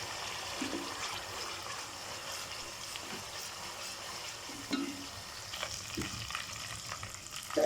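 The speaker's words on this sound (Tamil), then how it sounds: "நல்லா இது பொரியட்டும்" Ginger, curry leaves and chili powder frying in oil for a homemade pickle, a soft continuous sizzle and crackle with occasional scrapes, fairly quiet and close, no talking.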